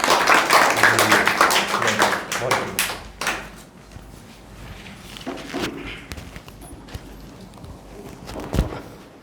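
Audience clapping during a Hindi motivational talk, a burst of many hands for the first few seconds that thins into scattered claps and taps, with a speaking voice and a sharp knock near the end.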